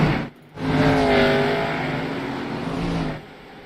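Race cars accelerating hard on a restart in an iRacing NASCAR event at Homestead-Miami, a loud engine roar swelling after a brief drop and holding steady, with the engine pitch rising as they speed up.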